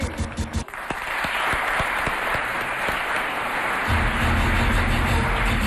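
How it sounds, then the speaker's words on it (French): A studio audience at a Chadian television variety show breaks into loud sustained applause and cheering, a dense roar of clapping that swells toward the end after a brief musical start. "Est-ce qu'on peut applaudir très très fort, s'il vous plaît, la famille?"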